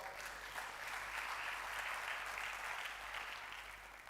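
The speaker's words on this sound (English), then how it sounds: "Please give me a round of applause." Audience applause at a Rivers State University combined convocation lecture, a dense, even wash of many hands clapping that holds steady throughout at moderate loudness before easing slightly at the very end.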